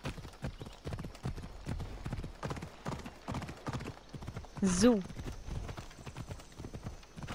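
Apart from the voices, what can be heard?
horse hooves clip-clopping in video game Assassin's Creed Odyssey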